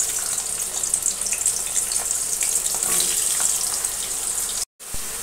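Potatoes and ridge gourd frying in hot oil with five-spice in a home kitchen: a dense, steady hiss and sizzle with small crackles, close and continuous, cut briefly by a moment of silence near the end.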